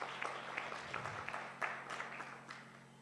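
Applause from the audience at a student investment research competition final in Kenya, light scattered clapping from a smallish crowd in a hall with a steady low hum underneath.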